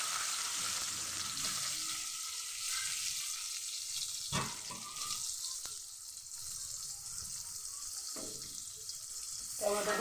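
Chopped onions fry in a pan with a bright, steady sizzle, broken by a few sharp clinks and scrapes of stirring.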